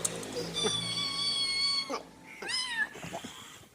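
A cat meows loudly and close up: one long drawn-out meow, then a shorter rising one after a brief pause.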